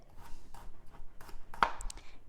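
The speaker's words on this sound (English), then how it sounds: "And then I'm just going to chop it finely." A knife chops peeled garlic finely on a board, a few sparse, soft taps spread out near and close, with one sharper, louder knock toward the end.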